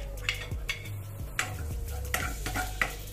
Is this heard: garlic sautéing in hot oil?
yes